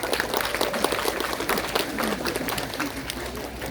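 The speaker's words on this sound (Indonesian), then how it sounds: "Tepuk tangan dulu untuk beliau." Audience applause at a regional government closing ceremony in South Lampung, honoring the police chief: steady, dense clapping from a large crowd that holds throughout without pause.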